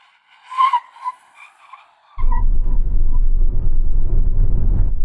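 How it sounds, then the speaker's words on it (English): A HiPhi X electric SUV launches hard from a standstill on full accelerator, its tyres breaking into a loud, sustained rumbling skid that starts abruptly after a short stretch of faint squeaking and continues steadily. "this time I'm just going to stamp on the accelerator"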